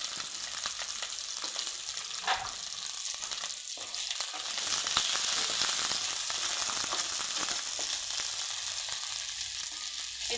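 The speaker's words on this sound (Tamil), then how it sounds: "இப்போ அதை சேர்த்து நல்லா வதக்கிக்கலாம்." Onion and capsicum sautéing in a pan, a steady soft sizzle with occasional scraping stir strokes, continuous and fairly quiet throughout with no talking.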